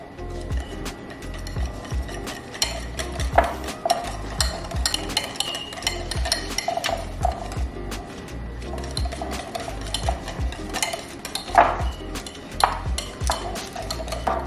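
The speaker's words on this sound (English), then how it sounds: "Then we're gonna go ahead and mix this all up" Cauliflower pieces being stirred through a seasoned batter in a bowl, with wet, uneven mixing sounds, scattered clinks of a utensil against the dish and a few sharper knocks, moderately close.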